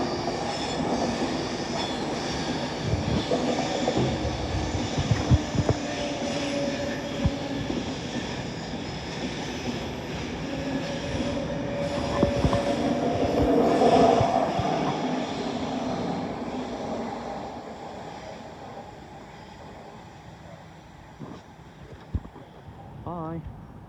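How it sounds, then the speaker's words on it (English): An Avanti West Coast passenger train bound for Manchester Piccadilly passes by, a long rumbling roll of wheels and carriages with squealing wheels that swells in the middle and then fades as it moves away. "Here comes the 1340 Avanti West Coast service to Manchester Piccadilly"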